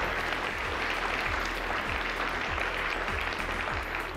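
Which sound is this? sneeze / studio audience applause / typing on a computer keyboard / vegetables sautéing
studio audience applause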